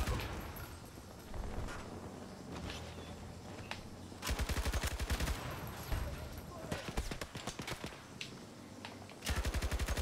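Bursts of rapid automatic gunfire in Battlefield 2042 come in loud clusters between quieter stretches, with a voice talking in between.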